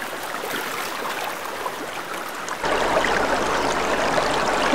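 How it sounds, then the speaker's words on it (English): River water rushing fast and deep, a steady close broadband wash that grows louder and fuller partway through, with no voices. "the water is running too fast and deep"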